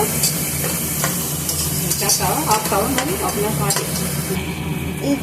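Masala for Guntur-style fish pulusu fries in a pan with a loud, constant sizzle, punctuated by stirring scrapes and clinks.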